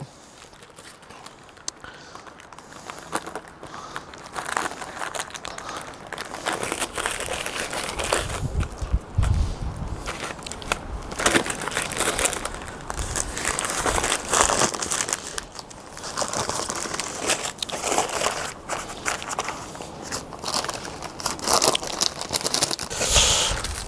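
Bacon explosion being rolled up by hand before going on a Pit Boss Kamado K24 barbecue: steady soft crinkling, rustling and squishing of meat and wrap, close and fairly continuous.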